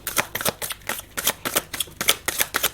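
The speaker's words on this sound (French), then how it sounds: "Je vais tirer plutôt une carte comme ça." Tarot cards being shuffled by hand before a draw, a quick run of crisp papery riffles and flicks in an even rhythm, close and clear with no talk.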